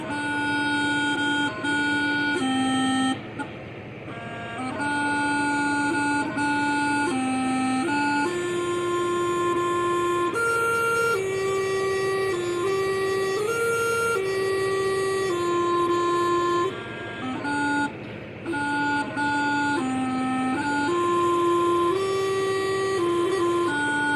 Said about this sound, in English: I'm using a different practice chanter reed. It sounds a bit raspy